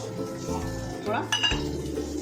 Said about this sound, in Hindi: 2 चम्मच कॉर्नस्टार्च लिया है, इसको मैं घोल लूंगी पानी के अंदर।